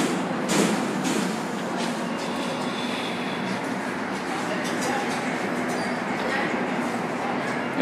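A train rumbles steadily through an underground station with a constant roar of rails and movement, while people talk faintly in the background, at the CTA 69th Red Line station in Chicago.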